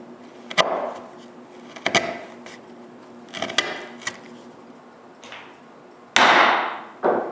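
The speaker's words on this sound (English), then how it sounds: "Then I can remove even more wood, so I'll have more space to cut deeper with the chisel." A chisel is struck into a wooden board to chop out waste for hand-cut dovetails. Sharp, close mallet-on-chisel knocks land at irregular intervals, ending in a louder crack and rasp as wood breaks away.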